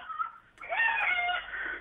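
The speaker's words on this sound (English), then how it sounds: "Geordie, those roosters seem to respond to your call there." A rooster gives a single loud, drawn-out crow, close and clear, rising after a brief lead-in call with no talking over it.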